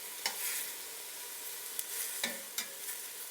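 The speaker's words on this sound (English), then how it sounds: "Onions smell so delicious as they're cooking." Onions sizzle steadily in a hot pan, a continuous frying hiss with a few quick scraping stirs, close and moderately quiet.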